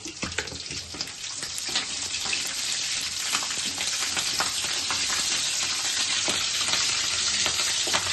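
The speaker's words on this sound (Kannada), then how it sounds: "ಫ್ರೈ ಆದ್ಮೇಲೆ ಗ್ರೀನ್ ಚಿಲ್ಲಿ ಆಡ್ ಮಾಡ್ಕೊಳ್ಳಿ. 4 ಗ್ರೀನ್ ಚಿಲ್ಲಿ ಆಡ್ ಮಾಡ್ಕೊಳ್ಳಿ." Green chillies and fennel seeds frying in hot oil in a pan, a loud, dense, continuous sizzle and crackle with steady hiss throughout, heard close up with no voices.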